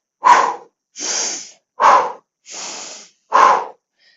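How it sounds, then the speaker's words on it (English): Pilates pumping breath, deep diaphragmatic sniffs through the nose, heard as five strong close breaths in a steady rhythm, sharp sniffs alternating with longer airy exhales, with no talk. "the pumping breath, deep diaphragmatic breathing, is a big sniff through your nose."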